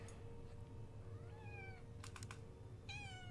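A house cat meows a few times in short rising and falling calls, close and clear, over a steady low hum and some faint keyboard-like tapping.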